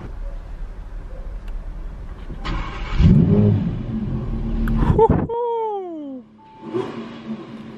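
Car engine close by swells into a loud rev and pulls away, the rumble rising and falling as it drives off, with a brief short tonal sound and a faint voice near the end.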